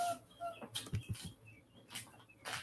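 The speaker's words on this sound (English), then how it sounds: "Enjoy that bird a little bit more." A bird chirps in short, bright tweets, added as atmosphere during a tarot reading, with scattered soft rustles and clicks between calls at a quiet level.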